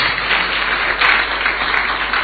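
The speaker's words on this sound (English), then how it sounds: "Please give him a round of applause." Applause greets Brother Joshua Ansa, leader of the Trades Union Congress, at a Ghanaian gathering; a dense, steady wash of clapping from a sizeable crowd fills the moment without pause.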